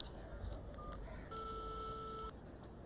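Telephone keypad tones beep in a short sequence, a few single tones followed by a longer steady tone, fairly quiet over low room hiss.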